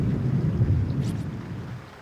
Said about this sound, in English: As the thunder and rain grow in intensity